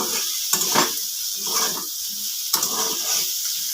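Thin slices of bitter gourd fry in hot oil, a close sizzle broken by a few scraping stirs and short bursts of crackling, with no voices over it.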